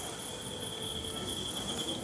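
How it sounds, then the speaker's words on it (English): A steady, high-pitched buzz of cicadas drones on continuously at night at a resort in Krabi, Thailand, faint and even over a low ambient hum. "You can hear the cicadas just tweeting away in the background."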